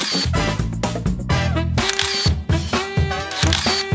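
A camera shutter clicks as a selfie is taken, short snaps heard under loud, busy music.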